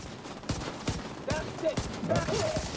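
Rapid gunshots from weapons in a shooter video game, several sharp reports spaced through the stretch amid muffled in-game action sounds.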